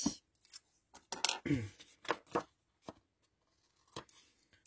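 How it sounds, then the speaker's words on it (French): Scissors snip through paper being trimmed for a handmade craft envelope, giving a handful of short, close, crisp cuts with quiet pauses between them. "Je vais venir couper."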